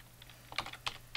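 Keys tapped on a computer keyboard to enter a command over a remote SSH session, a few short, sharp clicks in loose bursts, close and clear with no talking.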